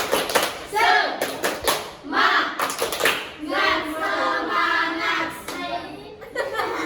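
Indonesian schoolchildren in a classroom group session clap hands together in a quick patterned rhythm, several bursts of group clapping mixed with their voices chanting.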